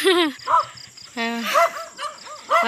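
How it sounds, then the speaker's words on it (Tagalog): Several dogs yip and bark in short bursts near a rural home at dusk, mixed with excited high-pitched whines, while a person talks over them. "Ayan na guys, may mga aso na."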